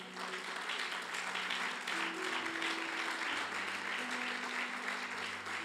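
A church congregation applauds the Lord in a steady, dense burst of clapping that fills the room, with a few voices mixed in beneath it.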